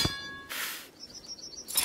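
A League of Legends teleport effect rings out as a bright metallic clang followed by shimmering, chirping tones and a final sparkling burst, loud and clear with no voices.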